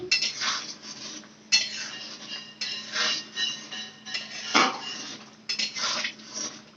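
A metal spoon scraping and clinking against a pot as vegetarian ghugni is stirred with ghee, steady repeated strokes close by, with no talking.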